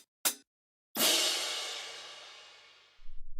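Loud drum-kit hi-hat cymbal: a short metallic tick, then one big open splash that rings and slowly decays over a couple of seconds, heard alone.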